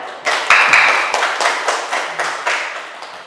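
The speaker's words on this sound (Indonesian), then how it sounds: "Tepuk tangan dulu buat Pak Ervan." An audience claps for a teacher at a school gathering on positive school culture, a round of fairly close hand claps with sharp individual smacks that gradually thins out.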